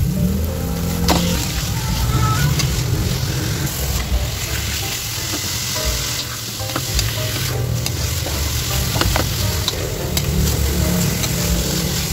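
Marinated ground pork sizzles and crackles steadily in a hot pan with occasional stirring scrapes, loud and close throughout.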